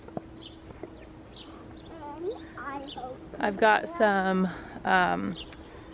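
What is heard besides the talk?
birds singing in garden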